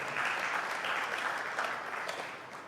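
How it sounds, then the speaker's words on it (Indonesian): A church congregation bursts into lively applause during a sermon, many hands clapping in a continuous, fairly even roar that eases slightly toward the end, with a few voices faintly underneath. "Berikan tepuk tangan yang meriah buat Tuhan."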